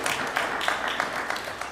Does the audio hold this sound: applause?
yes